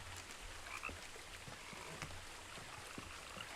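A frog croaks a few times in the video game What Remains of Edith Finch, short calls scattered over a steady ambient background with no voices.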